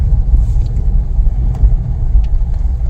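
A Nissan R50 Pathfinder 4x4 crawls along a desert off-road trail in two-wheel drive, giving a steady low engine rumble and drivetrain drone, close and continuous with light bumps and rattles, no talking.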